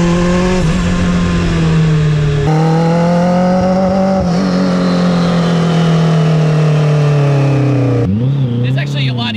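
A turbocharged, Hayabusa-engine-swapped Smart car of about 300 horsepower drones loudly up close, its buzzing engine note rising and shifting in pitch through a long pull, then dropping with a quick rev change near the end.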